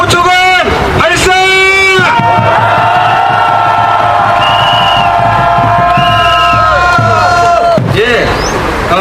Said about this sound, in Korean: 함성 5초간 발사!